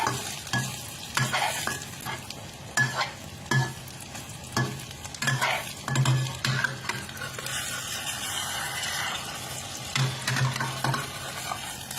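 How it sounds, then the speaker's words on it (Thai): Food fries in a pan over high heat until crispy, a steady sizzle broken by repeated scraping stirs and clinks of a utensil, close and without talk. "เจียวให้กรอบๆ"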